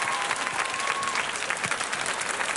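A hall audience applauds steadily, a dense wash of many hands clapping at moderate level for the whole stretch, with faint crowd murmur mixed in.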